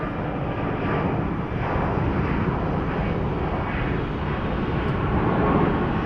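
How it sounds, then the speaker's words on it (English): An American Airlines Airbus A320 at Phoenix Sky Harbor airport gives a loud, steady jet roar that fills the whole stretch without a break. "So apparently it's American Airlines A320 according to Eve."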